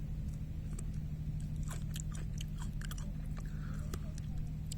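Someone bites into a round kumquat (Fortunella japonica) and chews the fruit with its rind, giving soft, close, wet crunching and chewing sounds over a steady low background hum.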